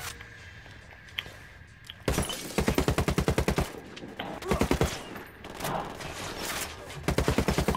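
Automatic rifle fire in the co-op shooter Ghost Recon Wildlands cracks out in loud, rapid bursts, several volleys separated by short pauses after a quieter opening with faint background sounds.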